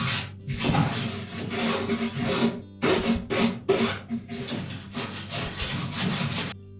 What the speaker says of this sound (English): We can also take a wire brush. Remove as much of that as we can.